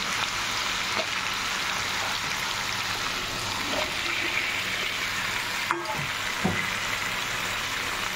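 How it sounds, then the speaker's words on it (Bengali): Potato pieces dropped into hot oil give a steady, dense sizzle that fills the whole stretch at an even level, with a few faint clicks and stirring knocks scattered through it. "আলুটাকে ছেড়ে দিচ্ছি, বুঝতেই পারছো তেলটা হয়ে গেছে, যে আওয়াজটা পাচ্ছ তোমরা।"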